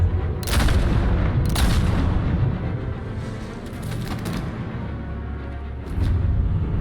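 Sustained gunfire bursts and booming shots from the video game Batman - The Telltale Series, loud and dense with a low rumbling bed, several sharper cracks standing out over about seven seconds.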